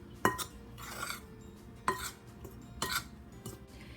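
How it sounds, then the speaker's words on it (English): White sugar being stirred into cranberries in a bowl for cranberry orange scones: three distinct spoon strokes scraping and clinking against the bowl, evenly spaced, close and clear with quiet between them. "we could just stir them in with the cranberries"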